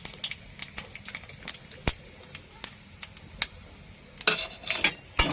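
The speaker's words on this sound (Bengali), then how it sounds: "তেজপাতা ফোড়ন দিলাম পাঁচ ফোড়ন দিলাম" Bay leaf and five-spice seeds crackling in hot oil, with dried red chilli in the pan: a low frying hiss dotted with many sharp, scattered pops and spits that cluster toward the end, close and fairly loud.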